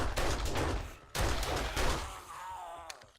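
Pistol shots in the survival game 7 Days To Die, several sharp cracks with a ragged rhythm over roughly two seconds, loud and close, followed by a fading tail and no talking.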